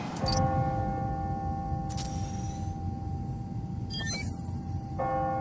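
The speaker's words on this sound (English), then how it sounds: "Ringing on the hour. When I hear those bells" Resonant clock tower bells in the video game Marvel's Spider-Man: Miles Morales ring out on the hour in steady strikes, each leaving a long sustained hum, with a brief metallic clatter partway through.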